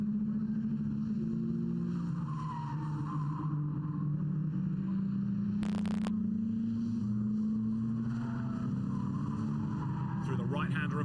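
Racing cars at the Snetterton circuit sweeping through the left-right S bends, engines droning and rising and falling in pitch, heard at a distance under an excited commentator's voice.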